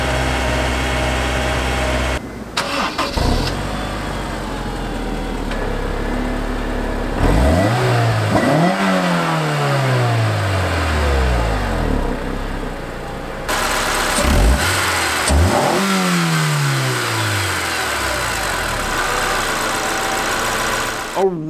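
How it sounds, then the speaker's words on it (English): A Honda S2000's 2.2-liter naturally aspirated inline-4 engine starts, idles, then revs sharply several times, each rise climbing high and falling back, loud and close with a rough mechanical drone. "I want you to listen to this engine. So let's start that."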